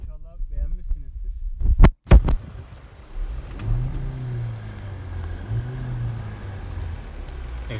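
Audi Q5 engine on an off-road outing, a few sharp knocks and then a low droning rev that swells and eases twice, heard close with a voice speaking briefly over it.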